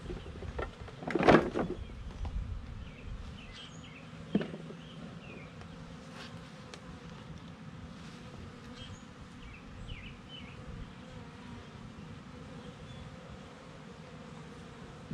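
Honeybees buzz in a steady, faint drone around an opened hive during an inspection of new colonies, with a few louder knocks and bumps from moving hive parts near the start.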